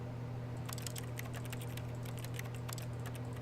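Computer keyboard keys clicking during play of The Stanley Parable, a quick irregular run of light close taps over a low steady hum, with no voices.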